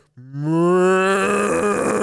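A man imitates a herd of cows with a single long, loud, drawn-out moo, close up, which rises and holds steady for nearly two seconds.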